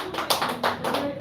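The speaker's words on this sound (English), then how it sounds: "Let's clap by everyone." A group claps hands during a music lesson, a few scattered sharp claps bunched close together in a short burst, moderately loud, with faint background voice.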